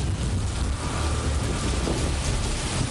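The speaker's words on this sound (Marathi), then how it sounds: "भिवंडीमध्ये विजांच्या कडकडाटासह मुसळधार पावसाला सुरुवात झाली।" Heavy monsoon downpour over Bhiwandi, Maharashtra, a dense steady roar of rain with low rumbling thunder beneath it, loud and continuous throughout.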